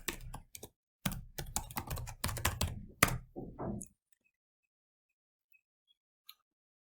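Password typed on a computer keyboard while setting up a Server 2019 domain controller: a quick run of close, crisp key clicks in bursts over about three seconds, then near silence with a couple of faint isolated taps.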